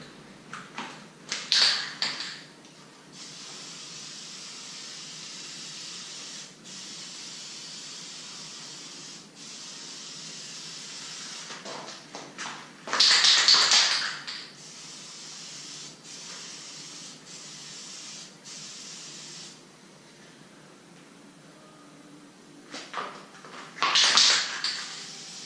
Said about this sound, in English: just notice how I stop the spray at the end